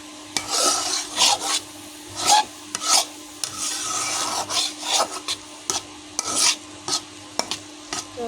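Carrot halwa is stirred in a pan with repeated scraping, rasping strokes in uneven bursts, close and fairly loud with short pauses between.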